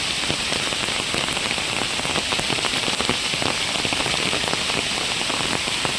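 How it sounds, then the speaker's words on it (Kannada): Dense, heavy rain pours steadily onto hard surfaces, a constant loud hiss filled with close drips and patters. "ತುಂಬ ಅಂದರೆ ಸಿಕ್ಕಾಪಟ್ಟೆ ಮಳೆ ಆಗ್ತಿದೆ"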